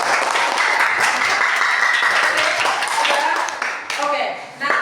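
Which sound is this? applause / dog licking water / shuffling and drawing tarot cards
applause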